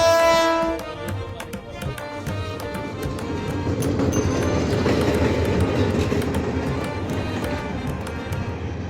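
The Kishoreganj Express rumbles at Bhairab Bazar railway station, a loud continuous rolling clatter of wheels and carriages that holds steady after a brief fading tone at the start.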